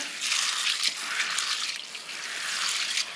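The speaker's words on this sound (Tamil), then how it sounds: "இப்போ இந்த உளுந்தில் தண்ணி ஊற்றி நல்லா இப்போ கழுவிக்கலாம்" Urad dal being washed by hand in water, a steady soft splashing and sloshing of grains and water at close range, continuous with small surges, no talking.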